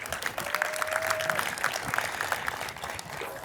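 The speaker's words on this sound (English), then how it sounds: "Oscar, you deserve a round of applause," A crowd applauds at an elementary school ribbon-cutting ceremony, moderately loud, steady clapping from a gathered audience with a brief whistle-like tone early on.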